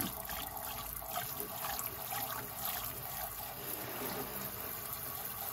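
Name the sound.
rinsing plant-dyed fabric in water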